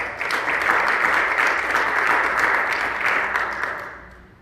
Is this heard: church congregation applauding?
yes